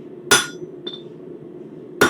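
Two sharp metallic cross peen hammer strikes on metal about two seconds apart, ringing briefly, with a lighter tap in between, close and alone.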